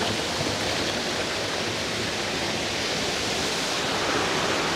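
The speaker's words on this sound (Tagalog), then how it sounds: "Bali meron siyang tatlong falls na binabagsakan mula rito." Waterfall at Ilog Panday river in Cavite, where three falls pour down into a river pool, making a steady, dense, continuous roar of rushing water, close and loud throughout with no voices.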